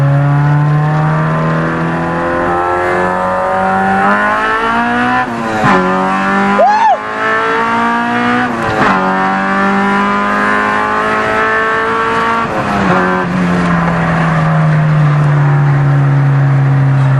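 A high-revving Honda K20 four-cylinder engine in a 1996 Honda Civic hatchback climbs through the rev range in second gear, its pitch rising sharply into a harder, raspier VTEC tone, then shifting and pulling again, loud and close.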